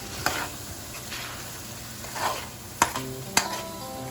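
Chickpeas roast in masala in a pan, giving a soft continuous sizzle with a few scraping stirs and light clinks of a spoon against the pan, close and fairly quiet.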